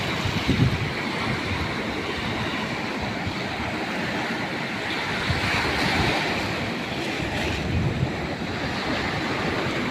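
Sea waves rolling and crashing in a continuous roar, with wind buffeting the microphone, loud and close, no voices.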